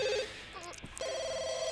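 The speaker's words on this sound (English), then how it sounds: "Oh, the phone's ringing." A telephone in The Sims 2 rings with a repeating electronic trill, one ring cut off and a second starting, fairly quiet against the game's background sound.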